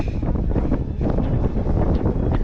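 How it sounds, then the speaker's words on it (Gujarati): Low, blustery rumble of cold wind buffeting a microphone at a viewpoint on Girnar hills in the monsoon, continuous and fairly loud throughout, with gusts swelling and easing. "આઈ થિંક વિન્ડ નોઈઝ બહુ વધારે આવતું હશે"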